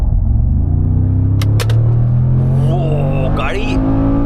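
A Mercedes G-Wagon Brabus 800 in Sport Plus mode pulls hard with a loud, deep engine roar that builds steadily, heard from inside the cabin under a man's speech.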